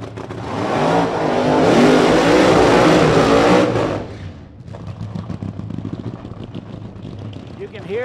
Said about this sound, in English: You can hear the distinct difference in the sound of these engines.